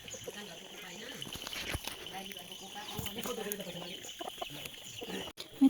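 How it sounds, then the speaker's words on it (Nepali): A short-legged chicken clucks nearby in scattered soft bursts, mixed with someone talking and faint farmyard background noise. "छोटो खुट्टे कुखुरा"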